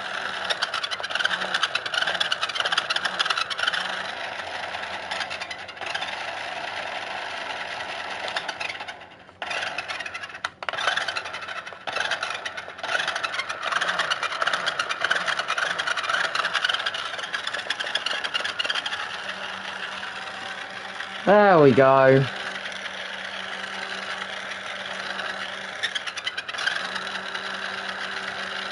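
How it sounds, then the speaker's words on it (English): An unreliable engine runs roughly and struggles, with an uneven, sputtering drone and momentary dips. A short high chirp cuts in near the end, and a voice speaks briefly. "That engine is really struggling."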